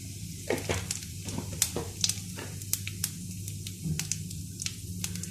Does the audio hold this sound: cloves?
yes